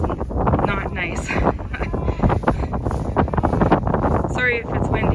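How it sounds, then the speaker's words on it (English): Wind buffets the microphone in heavy, rumbling gusts while people talk close by, outdoors while working cattle. "Sorry if it's windy."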